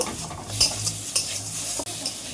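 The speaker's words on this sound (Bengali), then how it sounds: "নেড়ে চেড়ে আর দুই মিনিটের মতন ভেজে নিলেই কিন্তু আমার মাছ দিয়ে কলই শাক রান্না একদম কমপ্লিট" Khesari greens with fish and green chillies stirred and frying in a pan, with a steady sizzle under scraping strokes of a spatula, close and fairly loud.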